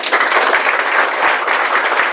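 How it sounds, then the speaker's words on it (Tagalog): Steady applause from a crowd, continuous clapping that fills the whole stretch without a break. "palakpak naman dyan"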